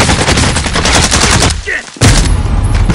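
Bursts of automatic gunfire in the Warzone video game. The shots rattle loud and dense, break off briefly in the middle, then resume at full volume.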